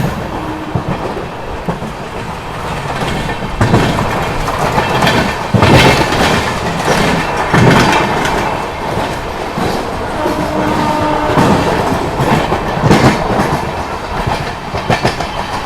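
An Amrit Bharat Express running fast between Patna and Delhi near Prayagraj, heard from on board as a loud, continuous rumble with rhythmic clickety-clack of wheels over rail joints throughout.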